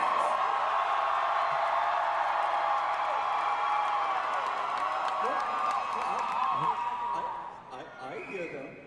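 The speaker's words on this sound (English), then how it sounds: "Did you not hear how loud and raucous this crowd is?" Loud, raucous crowd at an Anime Boston cosplay event, a dense wall of cheering and whooping voices that holds steady before thinning near the end, with speech mixed in.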